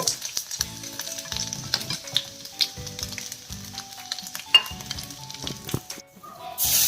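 Dry fish pieces frying in oil, a close, steady sizzle punctuated by clinks and scrapes of a utensil against the pan, with a faint background tone and a louder hiss near the end.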